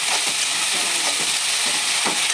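Cauliflower pieces sizzle and fry in a hot pan with salt and black cumin seeds, with a steady hiss punctuated by scraping stirring strokes roughly every half second, close and loud.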